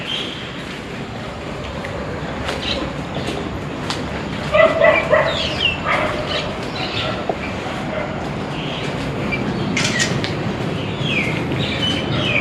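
Stray dogs around an abandoned rest house give a few short, distant barks clustered near the middle, with fainter yaps later, all set against a steady, rushing background hiss.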